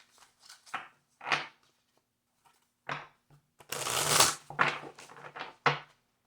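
Tarot cards are shuffled in several short riffling bursts with quiet pauses between, ending in a longer, louder riffle near the end.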